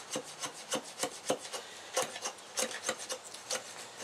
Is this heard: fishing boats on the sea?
no